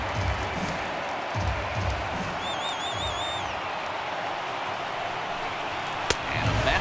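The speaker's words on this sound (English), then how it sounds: "Crowd gets up for the 3-2." A stadium crowd roars steadily during a full-count pitch in MLB The Show 18 as the Boston Red Sox visit the Houston Astros in a playoff game. A shrill whistle rises above the constant noise, and a sharp thud lands near the end.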